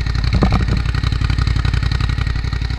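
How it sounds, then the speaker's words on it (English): Suzuki SV motorcycle engine idling close by, a steady pulsing beat with a thin high-pitched chirp riding on top of the low rumble throughout. "You still get that high-pitched chirpy from the engine, as you can hear, classic SV sound."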